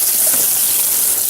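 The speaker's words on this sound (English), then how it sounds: "with cold water, I will" Cold tap water runs steadily into a bowl for washing fruits and vegetables, a continuous close gushing splash with no voices.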